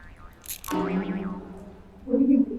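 A cartoonish boing effect from the video game What Remains of Edith Finch, a springy tone that sweeps downward and then hums on, with a second louder bounce near the end.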